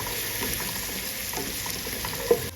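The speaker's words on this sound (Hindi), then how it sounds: "अब मैं इसमें ऐड कर दूंगी जीरा और अब हम इसे थोड़ा गोल्डन करेंगे" Cumin seeds frying in oil with a garlic and ginger paste for a dhaba-style arvi masala, a steady close sizzle with faint stirring scrapes and a brief clink near the end, no voices.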